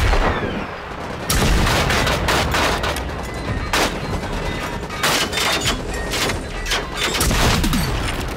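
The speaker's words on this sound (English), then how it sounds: "Keep him getting hit by a machine gun." Sustained machine gun fire in the video game Generation Zero, dense rapid bursts of loud shots with heavy booms layered over a constant roar of combat, almost no pauses across the stretch.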